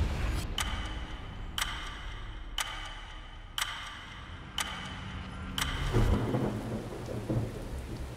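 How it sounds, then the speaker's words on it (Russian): Rain falling steadily outdoors near a river, with a series of sharp, evenly spaced cracks or ticks about once a second, followed by a rougher, louder wash of rain; no voices. "Начался дождь"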